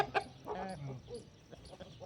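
Backyard chickens cluck nearby in short, choppy bursts, with a sharp call at the start and a few louder clucks in the first second, then quieter scattered clucking and rustling, with no one speaking.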